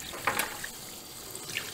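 Tap water runs steadily over cooked minced meat being rinsed in a sink, a faint, close splashing wash with a few small spatters and no talk.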